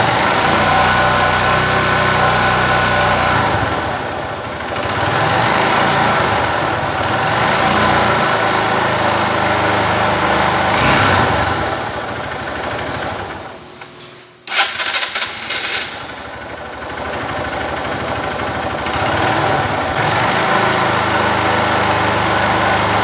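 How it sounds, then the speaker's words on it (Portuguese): A motorcycle engine being revved while its charging system is checked: a steady running drone that swells and sags several times, dips sharply, then sputters back up before settling into a continuous hum. "Preciso acelerar como acelerei antes."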